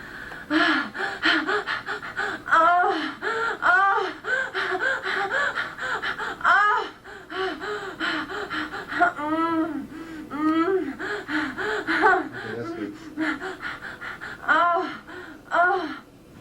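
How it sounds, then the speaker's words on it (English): A performer gives heavy breathing, gasps and moaning for an animated film's sound recording, a close, continuous run of breathy vocal bursts and groans. "It's heavy breathing and moaning, and it's take 15."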